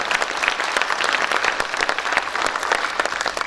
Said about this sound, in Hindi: एक बार जोरदार तालियां पद्मिनी शर्मा के लिए बजाएं।